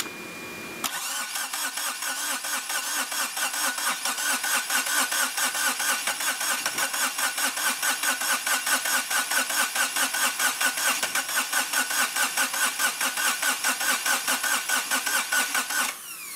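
A Kubota diesel engine swapped into a Geo Metro cranks with a rapid, even, rhythmic churning of the starter that runs on without catching, loud and close, no talking.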